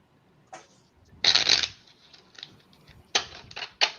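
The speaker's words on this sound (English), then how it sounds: "That man shuffles like a poker dealer." A deck of playing cards is shuffled in quick bursts, with crisp riffling flutters and brief pauses between them, close by and without talk.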